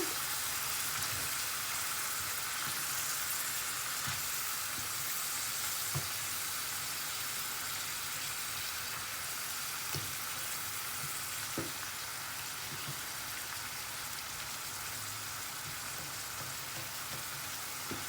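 Peppers, white pepper and spices frying in a pan over a gas flame make a constant soft sizzle, broken by occasional light taps and scrapes from stirring, with no voices.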